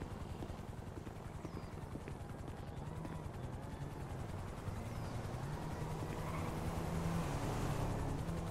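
A helicopter in Grand Theft Auto V comes in to land, its rotor chopping in a steady pulsing drone that grows slightly louder and nearer toward the end, with no talking.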